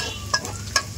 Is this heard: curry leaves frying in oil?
yes